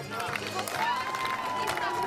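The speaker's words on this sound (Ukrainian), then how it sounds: "Друзі, аплодуємо, підтримуємо." An audience at a student patriotic competition applauds the first-place team, a steady wash of clapping and crowd noise with a faint tonal hum underneath throughout.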